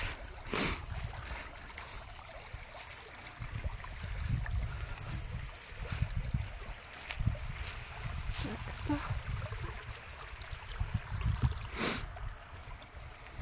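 Small stream flowing into a lake in a garden, a faint continuous trickle and gurgle of water with occasional louder splashes and soft bumps in the background.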